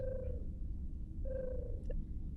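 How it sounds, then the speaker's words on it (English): A Star Trek tribble gives two short, soft purring trills with a gap between them, set over a low steady rumble. "It's light purring."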